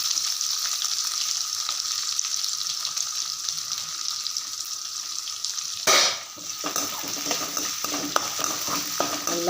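Steady frying sizzle from onions sautéing in hot oil in a pan, continuous and close, with a brief stirring clatter partway through.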